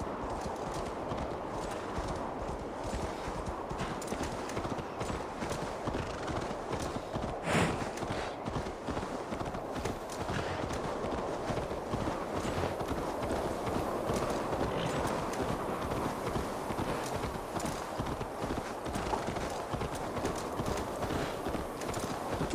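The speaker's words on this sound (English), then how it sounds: "Pushing the horse, but it's not losing stamina." A horse gallops steadily in the video game Assassin's Creed Valhalla, with continuous rapid hoofbeats carrying through the whole stretch at moderate loudness over ambient game sound.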